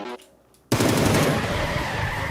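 Gunfire at a fuel can in PUBG, with a brief quiet stretch, then a sudden loud burst of rapid shots and a sustained roaring blast that fills the rest of the clip.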